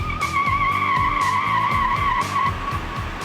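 A truck engine is floored and its tires skid, a loud, steady screech with a rough engine roar beneath it, close and sustained throughout.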